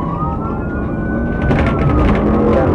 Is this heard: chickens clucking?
no